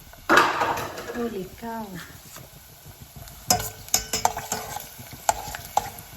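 Garlic dropped into hot oil in a pan for spicy roasted garlic fried peanuts, a burst of sizzling followed by scraping stirs and utensil clinks against the pan, with a voice speaking over it.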